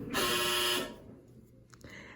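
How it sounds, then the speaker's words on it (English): A washing machine gives a loud, steady electronic signal tone lasting under a second, then cuts off, leaving quiet room sound with a few faint clicks. "That was the washing machine."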